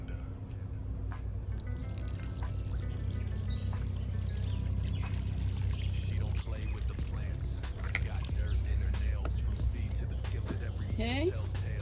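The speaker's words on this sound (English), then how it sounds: "Water it in really well." Water splashes and trickles steadily as it is poured onto a newly planted blueberry bush in a whiskey barrel, running for several seconds under faint background sounds and some talk.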